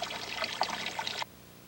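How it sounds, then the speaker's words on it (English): An electric bilge pump drains water from a jet boat's engine compartment, a steady bubbling trickle and splatter of liquid that cuts off abruptly after about a second, leaving a faint hum. "The operator switches it on to drain water from the engine compartment."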